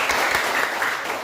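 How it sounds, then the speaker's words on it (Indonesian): A classroom of high school students claps together, a dense burst of steady applause that is fairly close and lasts about a second. "Berikan tepuk tangan."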